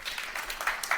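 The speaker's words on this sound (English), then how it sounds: "can I give a little round of applause for Kevlin?" A brief round of applause from a tech-conference audience honoring Kevlin Henney at a platform engineering talk: dense, steady clapping that fills the whole moment without any voices.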